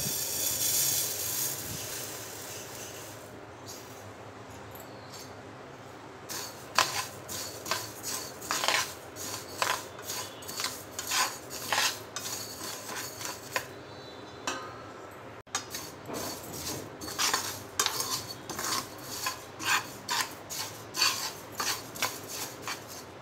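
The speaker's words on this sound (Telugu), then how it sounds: "స్టవ్ మీద పాన్ పెట్టి నువ్వులు వేయించుకోవాలి" Sesame seeds dry-roasting in a pan on a stove give off rhythmic scraping and light metallic clinks of a spatula against the pan, becoming a steady series of close, crisp strokes after a quieter start.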